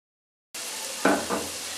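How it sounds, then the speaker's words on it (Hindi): Onions hitting hot ghee and frying for vegetarian biryani rice, a steady close sizzle with a couple of brief louder bursts as they are stirred, no voices. "इसे गर्म करेंगे, इसके अंदर हम प्याज डाल देंगे, प्याज को लाल करेंगे"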